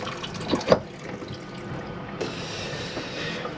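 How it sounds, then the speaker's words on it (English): Water runs into a hand basin sink in an Auto Sleeper Malvern motorhome, a close trickling splash after a couple of short knocks, the flow strengthening toward the end. "A sink with push the plug in, and you can fill your hand basin."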